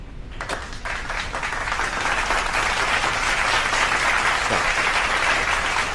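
Steady, dense applause from many hands, starting with a few sharp claps and swelling into a continuous loud ovation that holds to the end.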